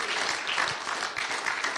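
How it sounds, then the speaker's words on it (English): Dense, continuous clapping from a church congregation applauding the Lord during a sermon, a steady wash of many hands with no voices on top. "give a big hand clap to the Lord."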